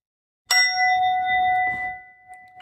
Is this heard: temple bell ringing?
yes